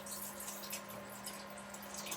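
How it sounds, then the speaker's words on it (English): Vegetable and chicken-bone jus poured and strained through a sieve, a steady close trickle of liquid running and spattering throughout. "And I'm now going to just strain that"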